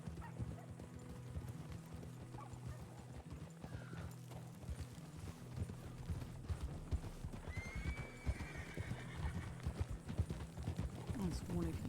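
Horse hooves clip-clop steadily through the RedM roleplay game, with a few whinnies breaking in, all running under ongoing voice chat.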